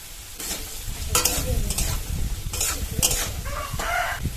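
Small-cut potato pieces frying in a pan with salt and turmeric, a steady close sizzle broken by several stirring scrapes, with no talking.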